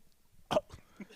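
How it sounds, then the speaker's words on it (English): A person coughs and clears their throat after a drink went down the wrong way, one sharp close cough followed by a couple of smaller throat sounds, on a broadcast of an elite pickleball Tournament of Champions finale in Kansas City. "Clear, clear your throat"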